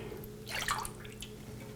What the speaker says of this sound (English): So I'm just gonna pour it in this pan.